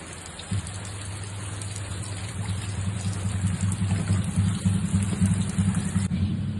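Steady rain falls with a constant hiss, joined by a low rumbling drone that thickens after the first half second and persists throughout.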